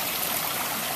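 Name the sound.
garden waterfall flowing into koi pond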